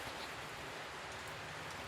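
Steady rain falling at dusk, a soft continuous hiss of drops on surfaces with no other sounds, even and unbroken throughout.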